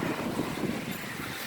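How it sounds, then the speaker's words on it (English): Strong wind on a very windy day roars steadily across the microphone as a loud, continuous rumble and buffeting with no other sounds. "It's an extremely windy day. Holy fuck, is it windy. It's very windy."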